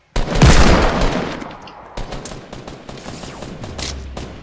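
Loud rapid bursts of gunfire in the Fortnite video game during a duos match, starting with a heavy close volley and then continuing as scattered, fainter shots.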